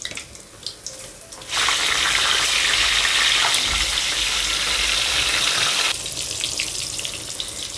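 Mirchi bajji, battered chili fritters, are dropped one at a time into hot oil. A strong, close bubbling sizzle rises suddenly and stays loud, then eases slightly toward the end.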